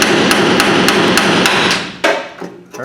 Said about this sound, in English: I just use this chisel. It's kind of sharp. Get under some of that lead.